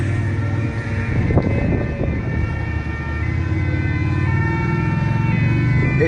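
Emergency sirens from fire trucks and an ambulance heading to a scene in Nice, steady wailing tones over a rumbling street background, moderately close and continuous, with a brief sharp knock partway through and no speech.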